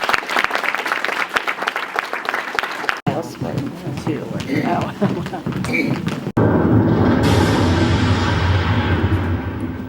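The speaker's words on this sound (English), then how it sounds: "I just want to give them a round of applause because they've worked really hard" An audience applauds after a community murder-mystery play, a dense clapping texture that runs loud and steady, broken by two brief cuts, with voices mixed in at first.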